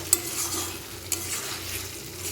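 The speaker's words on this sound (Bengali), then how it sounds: "আমি চিকেনটাকে এখন মিশিয়ে দিচ্ছি" Chicken rezala stirred in a pan with a spoon, a soft scraping swirl over a low simmer, with two sharp clinks of the utensil against the pan.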